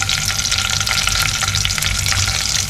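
Curry leaves and garlic sizzle in hot oil during tempering for masoor dal, a loud, dense, continuous crackle and hiss close to the pan with no talking.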